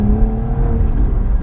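A 2017 Cadillac ATS-V twin-turbo engine drones steadily under acceleration from inside the cabin, its sound boosted through the car's speakers, a loud, dense hum with no voices.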